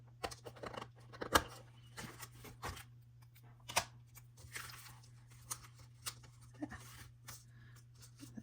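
Scissors trim material for a homemade craft project in a few quiet snips and rustles spread irregularly over a low steady hum, with no speech.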